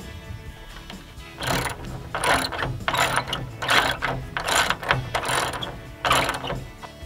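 A hand ratchet drives bolts to detach a deck from a roof, clicking in repeated quick bursts of pawl ratcheting close by, with short pauses between strokes and no voices.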